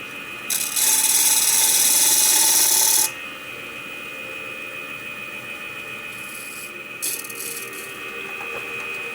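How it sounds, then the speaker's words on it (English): A small negative rake scraper cuts a Bradford pear bowl on a wood lathe, giving a loud, hissing scrape for about two seconds, then a quieter hum from the turning lathe and a brief second pass of scraping. "Time for a small negative rake scraper"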